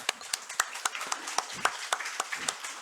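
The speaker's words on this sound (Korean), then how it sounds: "우리 격려 박수 하겠습니다." A church congregation claps in encouragement during Sunday morning announcements, a quiet, uneven scatter of individual hand claps from a small group, fairly distant and without voices.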